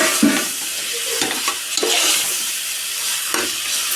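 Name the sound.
spicy chicken frying and being stirred in a pan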